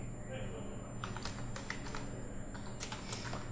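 Keys on a computer keyboard clatter in quick irregular bursts while a formula is typed into an Excel spreadsheet, close and steady beneath a man's ongoing speech.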